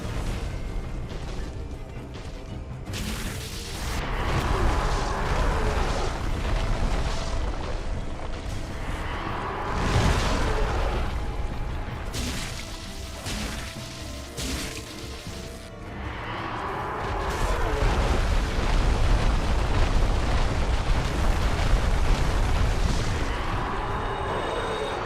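Black Fire Bomb explosions in Dark Souls come as repeated booming bursts and crashes that swell and fade in waves over a dense, rumbling game background, with no speech.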